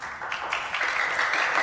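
Applause from a group of students for a new teacher in an Indonesian film classroom scene, a steady ongoing patter of clapping that lasts throughout at moderate volume.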